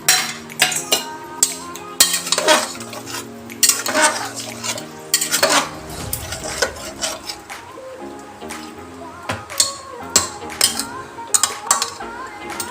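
A metal ladle clanks and scrapes inside a pot of thin Bengali mutton curry, stirring and scooping in a run of sharp, close knocks and rattles with brief pauses between them.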